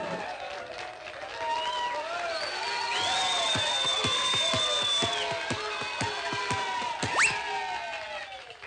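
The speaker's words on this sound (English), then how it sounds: "the crowd is wild" A wild crowd roars and cheers at a cartoon basketball game in its final seconds, a steady loud din with whistles and shouts rising midway and a sharp whoop near the end.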